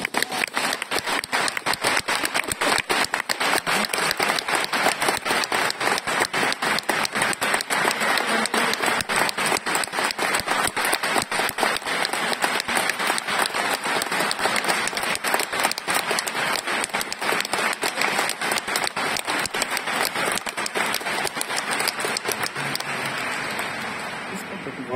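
A lecture audience breaks into sustained applause, a loud, dense and even roar of many hands clapping at once that holds for the whole stretch and only eases slightly at the very end.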